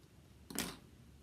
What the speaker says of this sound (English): now we will take and trim off the ends of our ribbon